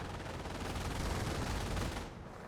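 Base machine gun in the Company of Heroes video game firing a continuous rapid stream of shots, steady and fairly distant under a battle din, cutting off near the end.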